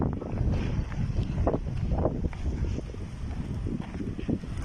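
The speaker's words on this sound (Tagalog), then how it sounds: "So karon fresh ang hangin kay dala taligsik" Steady wind carrying fine drizzle rushes and buffets against the microphone, with a low rumble throughout, alone with no talking.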